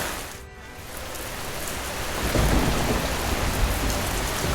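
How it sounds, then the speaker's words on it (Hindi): Heavy rain pours down steadily as a low rumble of thunder rolls in and swells, loud and enveloping. "बारिश अब तूफान का रूप ले चुकी थी। बिजली चमक रही थी।"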